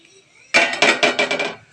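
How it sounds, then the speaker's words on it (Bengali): Amla (Indian gooseberries) drop into melted jaggery in a pot, making a quick run of about five clunking thuds close by, with no one talking. "এবার দেখো আমি আমলকিগুলো দিয়ে দিচ্ছি"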